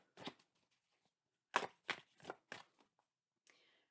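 Tarot cards are shuffled and handled up close in a quiet room, with a few separate soft riffling bursts and crisp slaps of the deck, then a faint last rustle, with no voices.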